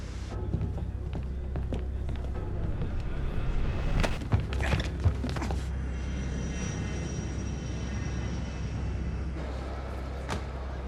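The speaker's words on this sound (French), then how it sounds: "Je viens d'avoir confirmation que le vol d'Albarad est en approche sur Charles de Gaulle" An airliner on approach to land at Charles de Gaulle airport gives a steady, loud engine roar throughout, with a few brief sharper noises and faint background activity.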